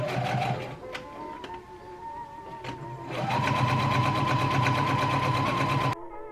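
A sewing machine runs steadily and fairly loudly over shirt collar facings, its mechanical whir holding for several seconds after a few clicks and a brief change in speed.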